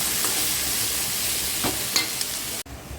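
Mustard seeds, chana dal and urad dal sizzle steadily in hot oil in a pan while beetroot curry is tempered, with a few faint clinks and stirring scrapes before an abrupt cutoff.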